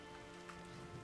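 Steady rain hiss falling on surfaces in a Godzilla video game, broadband and even throughout at a low level, with no talk over it.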